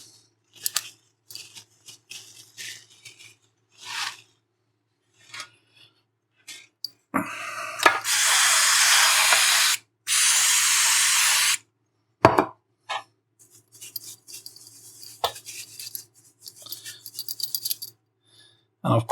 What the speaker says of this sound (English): Then I will use some brake cleaner.